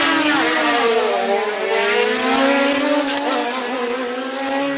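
Single-seat race car at the Cape Town hill climb screaming past at full throttle, a loud close high-pitched engine note that rises and shifts as it passes, with no talking.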